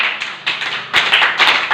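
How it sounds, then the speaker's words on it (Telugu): A group claps loudly together during a meditation session, producing a dense, steady burst of hand claps that swells louder in the second half. "ఒకసారి గట్టిగా క్లాప్స్ కొడదాం."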